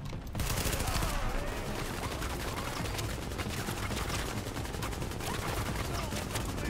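Dense, continuous gunfire fills a Tom Clancy's The Division game battle, rapid automatic bursts layered into a loud unbroken roar with sharp cracks throughout.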